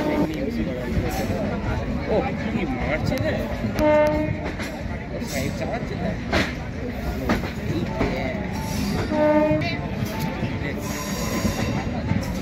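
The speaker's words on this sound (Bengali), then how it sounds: "আমাদের একটু পরে ট্রেন আছে" A train on a rail trip toward Princep Ghat rumbles past loudly, its wheels squealing, and two short horn blasts sound midway and later; voices are faintly mixed in with the noise.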